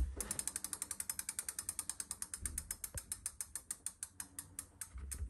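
An adjuster on an Avid BB5 mechanical disc brake caliper is turned with a ratcheting tool, giving a long run of quick, evenly spaced close clicks that slow slightly toward the end, with no talk.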